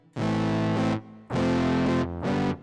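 A saturator distortion effect on a Boss GM-800 guitar synth plays three loud, sustained, harmonically rich guitar notes or chords, with the first two long and the last shorter, separated by brief gaps, with no talking.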